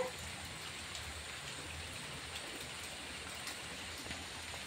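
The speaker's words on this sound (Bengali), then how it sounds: "দেখো বাইরে, দেখো কত বৃষ্টি হচ্ছে।" Steady hiss of rain falling outside, faint and continuous with a few scattered drops tapping, no voices.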